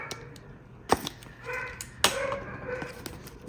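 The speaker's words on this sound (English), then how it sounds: "That's my dogs. This is my life. It's loud at my house." Several dogs bark and yip indoors at home, with two sharp loud barks standing out among softer whimpers and yaps over a steady household background.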